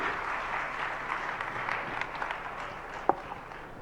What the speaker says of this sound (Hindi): जरा जोरदार तालियां बजनी चाहिए।